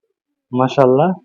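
A single racing pigeon coos once up close, a short throaty warble lasting under a second, with nothing else around it.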